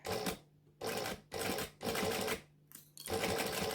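A sewing machine basts fabric for a hippie-van bag in bursts of close, loud stitching, stopping and starting about five times with short pauses between runs.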